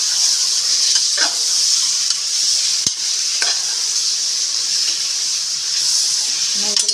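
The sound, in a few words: meat sautéing with spices in a pan for mutton biryani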